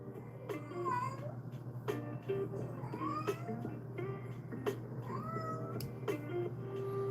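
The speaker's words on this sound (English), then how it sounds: "Y'all probably hear a cat meowing." A cat meows repeatedly, several rising and falling cries spaced a second or so apart, over a steady low hum.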